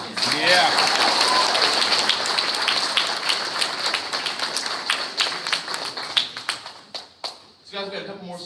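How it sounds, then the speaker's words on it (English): Audience applause for a summer music camp jazz ensemble, a dense wash of clapping that thins into scattered individual claps toward the end, with talk at the close. "Round of applause for them again."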